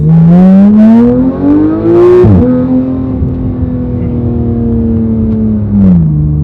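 A Porsche 911 GT3 engine revs hard and loud up close, the pitch climbing to a peak, dropping sharply, then holding a steady high drone before falling away at the end, with no talking.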